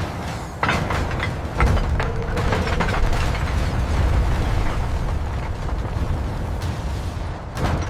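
A massive 300-ton forging press bears down on a steel crankshaft billet, producing heavy, rumbling booms and crunching impacts that roll on loudly for several seconds, with sharp cracks near the start and the end.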